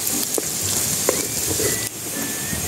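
Garlic sautéing in a pan for chicken pastel gives off a close, steady sizzle with a few sharp clinks and scrapes of a utensil against the pan, and no one speaks.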